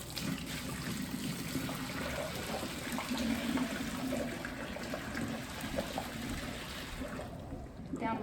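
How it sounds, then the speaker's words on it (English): Hot water from a Megahome countertop water distiller poured down a sink, a steady rushing gurgle and trickle of liquid draining, fairly close and continuous, thinning slightly toward the end. "down the sink it goes"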